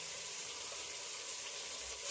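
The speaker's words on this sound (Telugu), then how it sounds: "వెంటనే ఫ్రై అవుతూ ఉన్నాయి" Onions and green chilies with ginger garlic paste fry in a pan with a steady, even hiss at moderate loudness and no talk.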